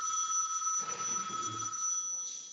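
A telephone rings steadily in a courtroom, a shrill, continuous electronic tone heard at moderate distance, with faint shuffling and room noise underneath.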